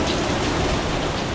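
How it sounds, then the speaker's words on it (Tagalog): Steady heavy rain pours over a subdivision work site, a dense, even hiss with no breaks, loud and close. "Eto, umuulan."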